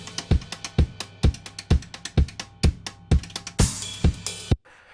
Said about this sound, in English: playing on the rim of the snare drum. And I drop the hi-hat out and it sounds like this